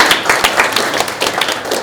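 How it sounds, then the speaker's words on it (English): A short burst of audience applause for a property development team at a talk, dense clapping close and fairly loud for under two seconds, alone without talk. "Let's give them a round of applause"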